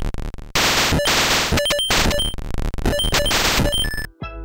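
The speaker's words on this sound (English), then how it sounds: "The game sounds like a pinball machine" An Atari video game by Howard Scott Warshaw produces pinball-machine-like sound effects: harsh bursts of loud electronic noise, rapid beeps and chirping tones in a busy, chaotic stream, ending with a short descending buzz.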